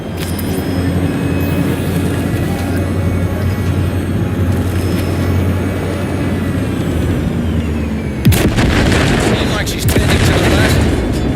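Cyberpunk 2077 combat brings a run of gunfire against vehicles, with rumbling engine noise and then sharp, loud rapid shots and booms near the end, voices speaking over parts of it.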